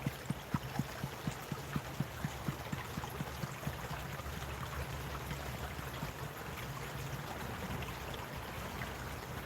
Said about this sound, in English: Let's go ahead and pan it down. See if there's any gold in our very first pan.